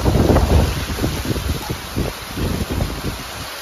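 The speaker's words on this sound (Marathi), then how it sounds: "इकडे आलो आहे आणि मस्त असा जोरदार पाऊस पडतोय" Heavy rain pours outdoors over a village during a downpour, a dense continuous hiss with gusts of wind noise buffeting the microphone, loud and close.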